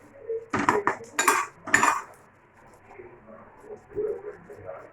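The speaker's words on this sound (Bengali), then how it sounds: "এবার পকোড়াগুলো উল্টে উল্টে দেবো।" Pakoras get flipped in a pan, giving a few sharp metallic clinks and scrapes of a utensil against the pan in quick bursts, followed by quieter frying and handling sounds.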